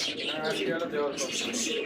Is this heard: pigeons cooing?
yes